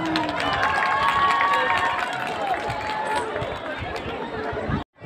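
Crowd at a village football final between Baghcha and Mothdora, a steady outdoor roar of excited chatter and cheering, close and full, cutting off abruptly near the end.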